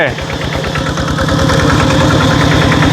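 A farm tractor used to till soil runs close by, its loud, steady engine chugging with a rhythmic knock throughout.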